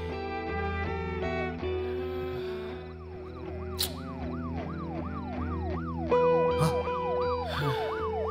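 A wailing ambulance siren sweeps up and down repeatedly, rising over a dense layer of sustained tones, moderately close and loud.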